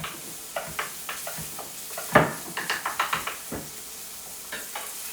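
Cubed onion sizzles quietly in a pan while a utensil stirs it, giving irregular scraping clicks and taps above a soft, steady frying hiss.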